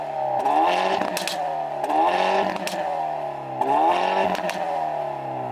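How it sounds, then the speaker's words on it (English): A Hyundai Veloster N engine revs up three times in short bursts, each with a throaty rise and a crackle of exhaust pops as it drops back. "It has those crackles, those pops."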